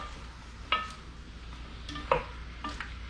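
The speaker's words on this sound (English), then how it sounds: "I'm going to stir this, mix it up." Food is stirred and mixed in a pot, with faint scrapes and a few soft clinks of a utensil over a low background hum.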